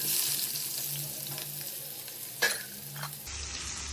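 Onion and cumin sizzling in hot oil in a pan, a steady close frying hiss with a couple of sharp spatula scrapes near the end, no voices.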